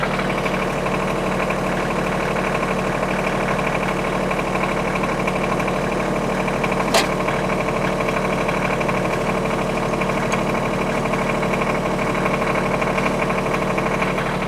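A Kioti CS2520S tractor engine idles loudly and steadily nearby, a constant throbbing drone with a single sharp click midway.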